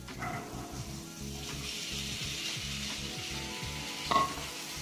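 Boiled chickpeas go into a pan of roasted spices and crackle with a soft, steady sizzle under rhythmic low clatter, ending in a brief louder clank near the end.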